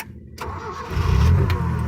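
Land Rover with a carburetor engine and manual choke cranking briefly then catching and settling into a low rumbling idle, close by, with no talk.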